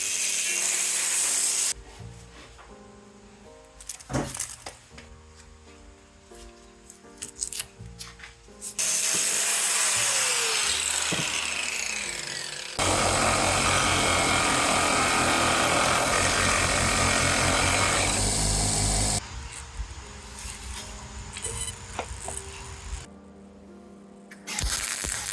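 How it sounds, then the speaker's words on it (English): An angle grinder cuts through a driveshaft during an Audi/VW 1.8T engine swap, with loud, sustained high-pitched grinding bursts separated by quieter stretches of spin-down and handling clatter, all close by. "So let's get the angle grinder out, and then we'll weld this back together again"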